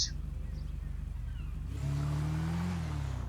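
A motorbike engine in a video game revs up midway, shifting from a low idle pulse into a loud, sustained rising drone.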